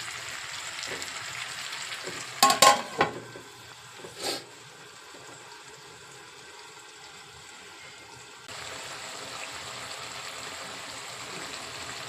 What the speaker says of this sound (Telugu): ఇప్పుడు మన టమాటా, దోసకాయ ఉడికేంత వరకు నేను ఉడకనిస్తాను.